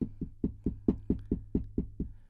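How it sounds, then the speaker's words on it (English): Knocking on the join between a microphone table stand and its boom arm gives eleven evenly spaced, dull, hollow taps close to the mic, each with a short resonant ring. "So I will knock in between the stand and the boom arm"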